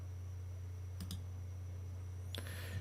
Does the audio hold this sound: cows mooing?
no